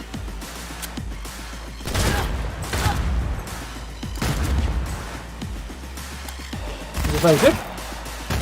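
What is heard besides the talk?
gunfire in video game Cyberpunk 2077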